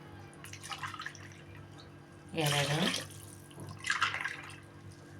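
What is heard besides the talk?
water poured from a glass into a cooking pot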